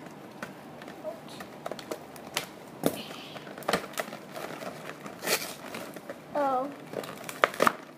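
Crinkling and tearing of Littlest Pet Shop toy packaging being opened, close irregular rustles, snaps and crackles, with someone speaking and exclaiming over the sounds.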